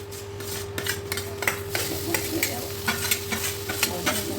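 Onions sizzle and crackle in a hot pan after mustard seeds have popped, with occasional scraping stirs, a steady frying hiss throughout with no talking.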